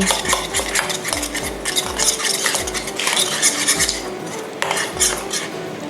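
Seasonings with white soy sauce and sesame oil are mixed in a bowl, giving steady rhythmic scraping and rubbing strokes, roughly two per second, close up and continuous with no voices.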